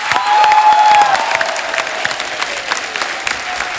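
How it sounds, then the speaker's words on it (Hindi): A studio audience at a televised comedy show breaks into loud, dense applause that rises quickly and then tapers off over a few seconds, with no voices heard. "जोरदार तालियां होनी चाहिए यार"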